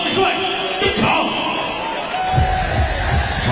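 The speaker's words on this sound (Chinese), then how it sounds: "掌声、欢呼声、尖叫声，有请黑方选手常帅登场" An arena crowd cheers, screams and applauds for the entrance of a fighter at a sanda fight event, a dense, loud roar with scattered thuds and claps running throughout.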